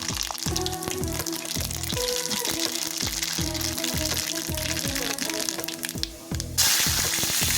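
Mustard seeds splutter and pop in hot oil in a pan, a steady close crackle with repeated sharp bursts running throughout, loud and alone.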